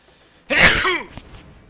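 A single sharp, loud sneeze bursts out close by after a brief quiet moment, followed by a short breathy tail.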